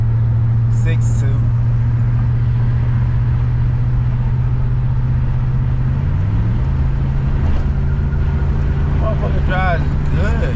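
A 1987 Chevrolet Monte Carlo SS fitted with a 6.2-liter LS7 V8 drones steadily and loudly as it drives, its low engine tone shifting pitch partway through, with traffic-like noise around it.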